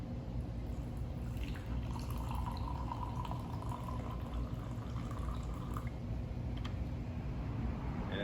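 Water pours steadily over ground coffee in a pourover brewer, a St. Anthony's C70, making a continuous close trickle and drip that holds an even level throughout with no talking.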